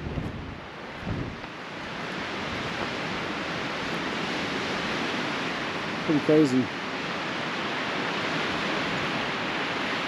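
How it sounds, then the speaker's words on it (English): Strong wind roars steadily into the microphone at a canyon-edge campsite near Flagstaff, Arizona, a dense rushing noise, with a brief spoken remark partway through. "Super windy out here."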